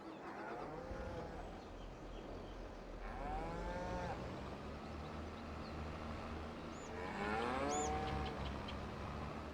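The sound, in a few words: cows mooing in Farming Simulator 22 video game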